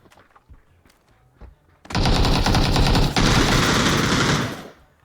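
Automatic gunfire in the video game PUBG, a loud, close burst of rapid rattling shots lasting about three seconds, preceded by a few faint clicks and scattered quieter sounds.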